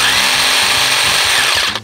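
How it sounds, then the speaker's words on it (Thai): IMAX IMPC 005 GT cordless high-pressure washer running steadily, a loud continuous motorized whine with hissing spray, cutting off abruptly at the end. "ให้เรากดปุ่มเซฟตี้ก่อนแล้วค่อยกดตัวสวิตช์สำหรับฉีดน้ำแบบนี้ครับ"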